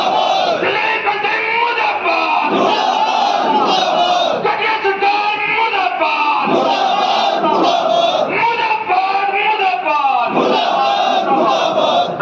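Crowd of protesters at a demonstration against the Haryana government chanting slogans loudly in unison, a steady rhythmic roar of many voices with repeated shouted phrases filling the whole stretch.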